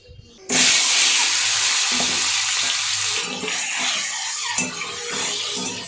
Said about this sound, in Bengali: চলো এদিকে তেল পুড়ে যাচ্ছে গো